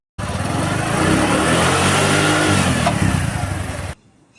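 A motorbike engine catches and revs hard, a loud close roar that rises and surges for a few seconds, then cuts to a quiet idle murmur near the end.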